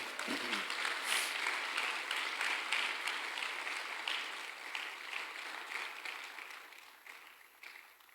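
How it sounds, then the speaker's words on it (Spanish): Hearty applause rises from a church congregation during a sermon, a thick wash of many hands clapping at once that holds strong for several seconds and then slowly thins and fades toward the end. "Dele fuerte un aplauso al Señor"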